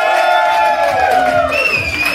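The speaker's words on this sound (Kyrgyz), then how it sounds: "Тосуп алалы бир кол чабуулар менен." A crowd at a celebration feast cheers and whoops loudly in a brief burst of overlapping shouts and raised voices, close and lively.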